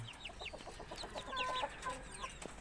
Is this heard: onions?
no